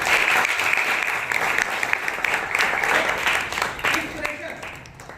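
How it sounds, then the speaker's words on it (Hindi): Steady crowd applause at a school gathering in India welcomes a retired headmistress, dense and sustained for several seconds without a break. "उनके लिए भी एक बार जोरदार तालियों से उनका स्वागत"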